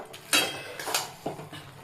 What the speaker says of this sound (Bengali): আমি এটা শেষের সময় থেতলে নিচ্ছি এইভাবে